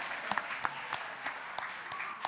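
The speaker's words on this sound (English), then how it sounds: "You can give a round of applause to that." A handful of people at a board of education meeting give a sparse, faint round of applause, a few distinct claps landing at a slow, fairly even rhythm over a quiet room tone, with nobody talking.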